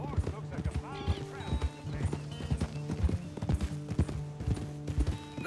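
Horse hooves clip-clop in a steady walking rhythm in Red Dead Redemption 2, close and fairly loud over game ambience and music.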